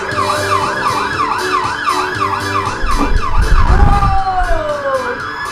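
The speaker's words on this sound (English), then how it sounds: "Those sirens and the sound of fire engines on their way!" Wailing sirens sweep up and down repeatedly, a fire engine's two-tone call rising and falling with engine rumble underneath, fairly close and steady.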